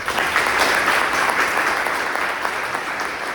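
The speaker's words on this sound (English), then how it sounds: "Please give everyone a round of applause for Charles" Audience applause at a district candidate forum on transportation, safety and growth, a full room clapping in a thick, steady roar that stays loud from start to finish.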